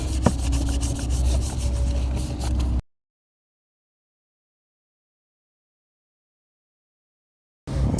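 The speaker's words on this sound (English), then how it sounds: "we finished cleaning the 3/4 inch PVC with the acetone" Three-quarter-inch PVC pipe rubbed clean with acetone on a rag, giving a steady close scrubbing rasp for nearly three seconds, then silence, then the rubbing resuming briefly.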